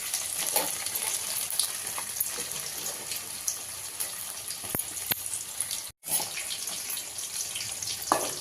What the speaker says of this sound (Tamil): பூண்டு நல்லா வேகுதுங்க